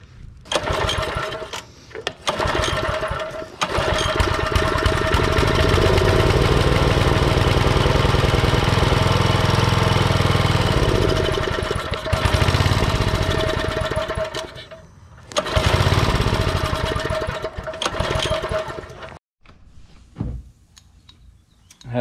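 A Troy-Bilt Pony rototiller's small engine, recently worked on after a no-run fault, sputters briefly, then runs loud and close with a rattling, uneven drone that dips and cuts out a few times near the end.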